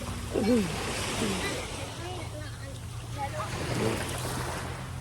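Surf rolling onto a seashore makes a steady wash under wind noise, with a voice talking over it.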